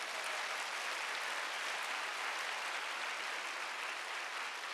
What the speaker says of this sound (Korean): 목사님 힘내시라고 박수 한번 보내드리겠습니다.